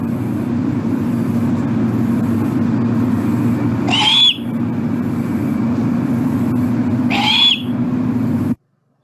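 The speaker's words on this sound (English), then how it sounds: "young great horned owls screech, and it's over and over and over and over," A young great horned owl gives two harsh, rising begging screeches several seconds apart, loud and close over a steady low engine-like hum of road traffic, which then drops to silence.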